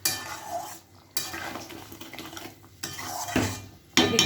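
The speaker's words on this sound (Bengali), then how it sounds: "এই যে একটা বাটির মধ্যে নামিয়ে নিলাম" Potol aloo curry scraped from a cooking pot into a bowl: a few bursts of metal utensil clinking and scraping against cookware, close and fairly loud, separated by short quiet gaps.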